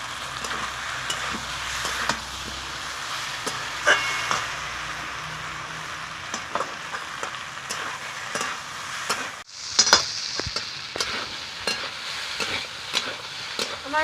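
Ground spice paste and bitter gourd stir-fried in a pan with fried potato for a fish sukto, giving a steady close sizzle broken by frequent spatula scrapes and clicks, with a brief louder clatter near the end.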